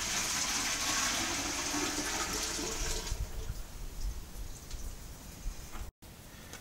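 Tap water pours steadily into a Robobrew Brewzilla all-in-one brewing system being filled to 20 litres, a loud rushing splash that thins out partway through and then briefly cuts off.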